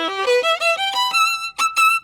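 A smooth, connected violin passage bowed without martelé strokes, a run of bright sustained notes shifting pitch in quick succession, played alone and close.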